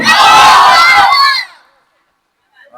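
A large crowd at a religious sermon gathering shouts the takbir in unison, a loud, massed burst of voices lasting about a second and a half before cutting to silence and a faint distant murmur.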